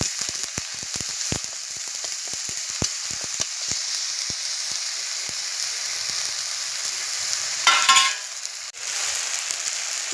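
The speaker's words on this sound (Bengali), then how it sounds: "দিয়ে দিলাম আদা রসুন গ্রেট করার যেটা ছিল। এটা কিছুক্ষণ একটু তেলে নেড়ে চেড়ে নেব।" Grated ginger and garlic fry in oil with a light salt seasoning, a dense, steady sizzle with rapid ticking spatula strokes early on and a brief louder scrape near the end, close and continuous with no voices.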